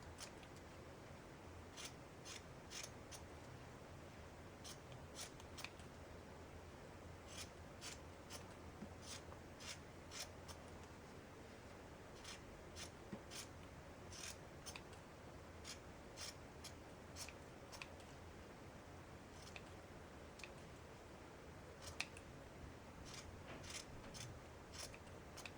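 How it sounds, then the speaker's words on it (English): Scissors snip repeatedly around a yarn pom pom, producing faint, quick clicks at an irregular rhythm over a quiet room background with no talking. "just keep trimming all around, fluffing it kind of as you go until you get the shape that you want"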